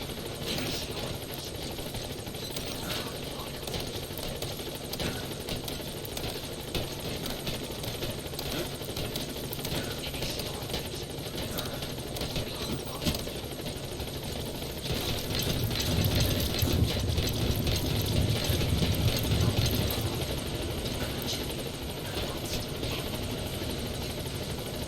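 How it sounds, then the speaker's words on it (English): A support helicopter in Metal Gear Solid V arrives at the landing zone, its rotor producing a continuous loud, dense thrum that swells a little near the end, with some game radio speech underneath. "Support helicopter has arrived."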